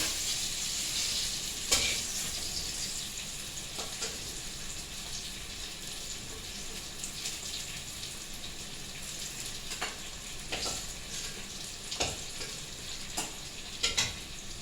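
Slices of pointed gourd (potol) fry in a pan with a steady close hiss, and occasional scrapes and taps of a spatula cut through the sizzle now and then.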